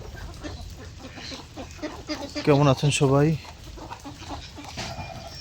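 Chickens clucking around a large farmyard rooster, with scattered clucks throughout and a brief louder stretch of clucking, while a person speaks a greeting over them.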